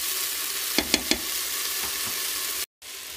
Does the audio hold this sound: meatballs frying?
yes